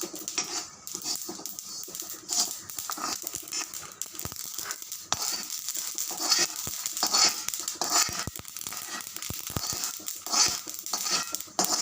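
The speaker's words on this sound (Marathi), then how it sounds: "तीळ आपल्याला थोडेसे फ्राय करायचे" Sesame seeds dry-frying in a pan alongside roasted peanuts, giving a steady rustling stir with scraping clatter and a low sizzle, close and continuous with no talk.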